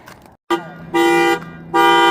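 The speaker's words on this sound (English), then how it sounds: "the security alarm went off" A parked truck's security alarm blares beside a roadside trail along the Pacific Crest Trail, loud, close, steady electronic tone bursts that cut off and start again in a repeating pattern.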